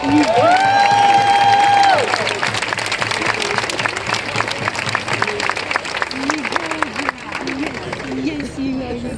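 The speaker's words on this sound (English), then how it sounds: "Give him a big round of applause." Audience applause with some cheering greets writer Stephen Wells at a live talk event, dense clapping throughout, loudest at the start, with tonal music or voices overlaid early and a voice talking over the later part.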